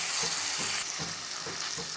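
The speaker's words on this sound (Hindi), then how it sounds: "इन सॉसेस और मसालों में चिकन को 1 मिनट तक के अच्छे से फ्राई होने देंगे" Chicken frying in a pan with dark soy sauce, vinegar, chili flakes and spices for chicken macaroni, giving a steady close sizzle punctuated by rhythmic scrapes of stirring, with no voices.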